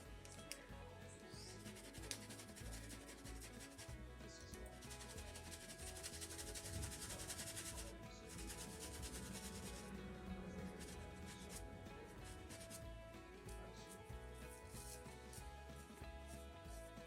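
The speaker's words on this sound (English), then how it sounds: "scrub it on the towel a little bit." A wet paintbrush scrubbed back and forth on a cloth towel after cleaning, a steady close rubbing and brushing texture that runs continuously without pause and with no talk.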